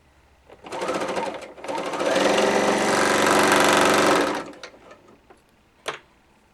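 Bernina L850 serger sewing ribbing onto fabric, running loud and close in two bursts, a short one and then a longer steady whir lasting a few seconds, followed by quieter handling clicks and a sharp knock.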